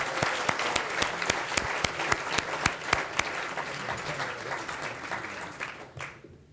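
Audience applause welcoming Mr. Cantor at a Pacific Council talk, a steady burst of many hands clapping that fills the room, then fades out over the last second.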